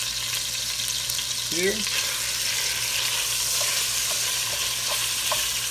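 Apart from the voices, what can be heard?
ground beef browning in a pan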